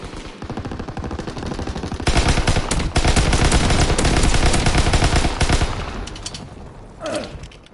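Dense, loud automatic gunfire from Call of Duty: WWII multiplayer, rapid bursts swelling into near-continuous fire with heavy low-end thump, easing off toward the end.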